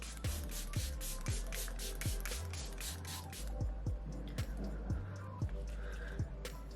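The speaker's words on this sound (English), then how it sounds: "I'm gonna spray some of this on my face" Repeated short spritzes of a makeup setting spray bottle hiss close by in an uneven rhythm as it is sprayed on a face, over a low background hum.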